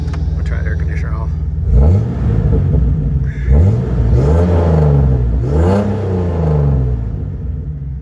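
A 2006 Jeep Wrangler X with no catalytic converters, a cold air intake and a six-speed manual revs up loudly several times, each rev rising and falling over a steady idle rumble, with someone talking over parts of it.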